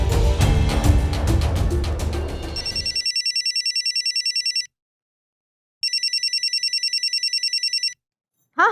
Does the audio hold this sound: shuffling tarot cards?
no